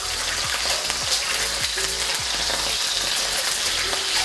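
Hard-boiled eggs fry and toast in a pan of oil, giving a steady loud sizzle throughout with soft rhythmic scraping as they are stirred and turned, and no talking.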